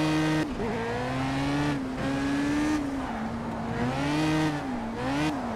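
Racing car engine in Project Cars, a rear-driven car with heavy torque, holds a loud, steady harmonic drone that rises and dips with gear changes and throttle, sliding easily with faint tire scrub underneath, with no voices.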